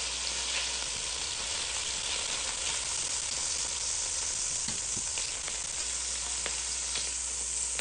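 Pieces of meat for an Italian spezzatino stew browning in a hot pan, giving a steady, loud broadband sizzle throughout with a few faint clicks of stirring and turning, no voices.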